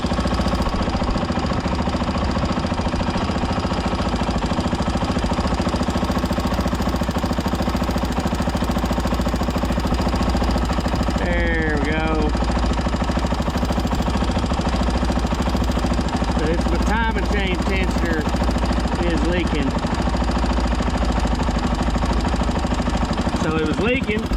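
A 2004 Honda TRX400EX ATV engine warming up with an oil leak, idling in a continuous loud, rapid thumping chatter close by, with brief squeaky bits partway through.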